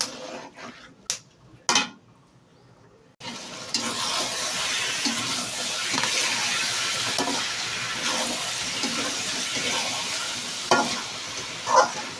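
Food frying in a pan while being stirred for Shab-e-Barat cooking: a few isolated knocks and near silence open, then a loud continuous sizzle with recurring scraping stir strokes and occasional clanks.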